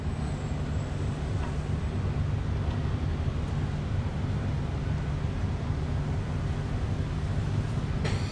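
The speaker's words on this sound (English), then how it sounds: "Let's take a listen to that exhaust note." A 2020 Porsche Taycan rumbles steadily at close range, a low continuous drone with little change in pitch, no one talking over it.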